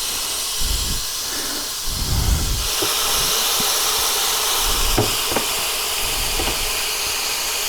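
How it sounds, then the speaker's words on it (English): A continuous broad hiss of marinated steaks sizzling on a hot indoor smokeless grill, with a few soft bumps and clicks mixed in. "Oh, listen to that sizzle."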